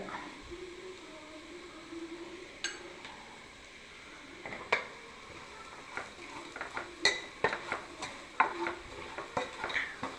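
Garam masala, coriander powder and chili powder fry in a pan for a beef fry, a quiet sizzle under repeated clinks and scrapes of a spoon stirring, growing busier toward the end.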